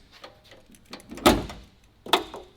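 The hood of a Dodge Demon 170 slams shut and latches, giving two sharp, close metallic thuds about a second apart, with quieter handling clunks before them.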